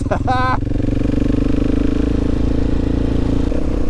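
A modified KTM 690 motorcycle runs steadily nearby, its engine giving a continuous, even drone for the whole stretch, with a brief voice near the start.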